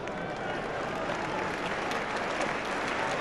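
Ipswich Town supporters applaud a shot by Stuart Slater during an Arsenal versus Ipswich Town football match in 1994/95, a dense, sustained roar of clapping and crowd noise throughout.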